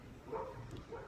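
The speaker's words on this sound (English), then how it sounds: "I think my dogs are going nuts outside." Several dogs bark and yip outside, muffled and fairly distant, in one brief burst heard alone.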